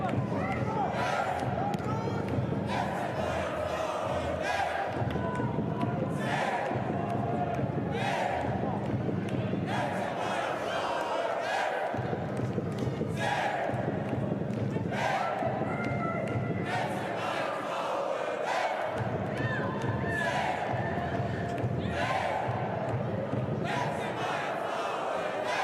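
Stadium crowd at a Bayern Munich versus Wolfsburg football match, a steady distant roar with rhythmic surges of chanting voices throughout, heard faintly under the general noise.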